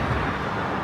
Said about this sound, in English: sorry about the noise of the traffic and me having to shout a bit